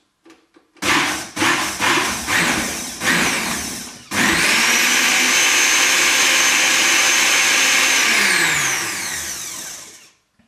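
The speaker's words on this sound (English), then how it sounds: "so all blended up, and just a matter now of putting it back into the pan" A countertop blender purees broccoli soup under a tea towel draped over the lid, starting with several short pulses, then settling into one long, loud, steady whir that winds down and stops near the end.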